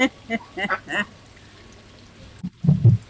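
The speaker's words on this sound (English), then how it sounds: "Quacks with urgency." Several short, hoarse duck quacks burst out near the end, following a few brief broken vocal sounds and a quiet pause.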